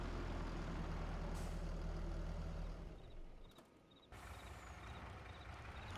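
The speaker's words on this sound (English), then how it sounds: "it's our Mack truck Anthem 6x4" Mack Anthem 6x4 truck in Farming Simulator 25, a loud steady engine rumble that drops away midway, with a sharp air-brake hiss and brief clicks before the engine noise returns at a lower level.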